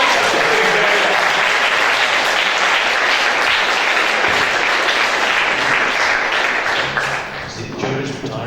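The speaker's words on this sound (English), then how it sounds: "A huge round of applause." An audience at an Oxford Think Week lecture breaks into a dense, sustained round of applause that fills the room, then thins toward the end.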